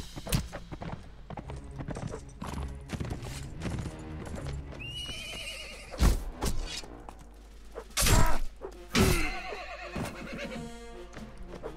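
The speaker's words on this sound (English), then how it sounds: "I cut your horse." A horse neighs repeatedly amid clip-clopping hooves and clashing battle sounds in the medieval combat game Mount & Blade, with several loud, sharp impacts toward the end.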